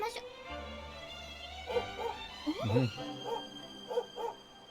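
A dog in the video game Dragon Quest XI on PC gives short yips and whimpering barks in a few quick bursts over sustained tonal game music.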